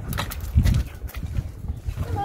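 A donkey walking outdoors in a French village, hooves clip-clopping in an irregular rhythm close by, under people chatting.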